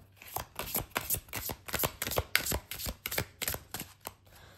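A deck of oracle cards is shuffled by hand, producing a steady stream of close, crisp riffling slaps and flicks in a quick, regular rhythm throughout.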